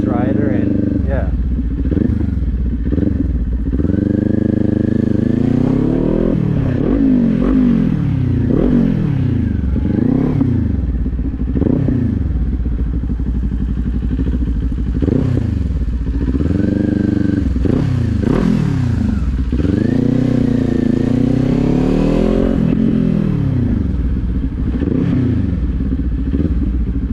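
A motorcycle riding on a road, its engine loud and close throughout, the pitch climbing and dropping repeatedly as it accelerates and shifts gears.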